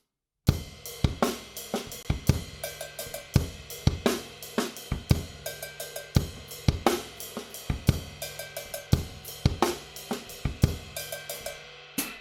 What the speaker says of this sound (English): So doing it on the ride, moving just those last 4 notes to the cowbell